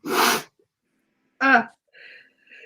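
A sharp sneeze bursts out at the start, followed by a brief pause and then a short breathy voiced sound and faint murmuring.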